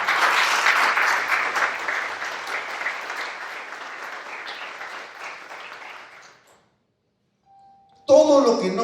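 A church congregation claims applause for God: dense, sustained clapping from a crowd that gradually fades out over about six seconds, followed by silence and then a voice speaking.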